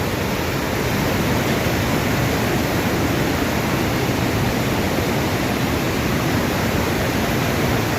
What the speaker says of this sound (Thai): ได้ยินแต่เสียงน้ำ